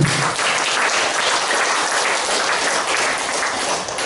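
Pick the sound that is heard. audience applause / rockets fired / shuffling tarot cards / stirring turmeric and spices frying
audience applause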